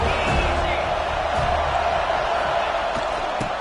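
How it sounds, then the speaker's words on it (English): A home crowd at a basketball game roars in a steady, dense wash of cheering and noise, with faint thumps beneath and a commentator talking over it. "This crowd ready to make its presence known."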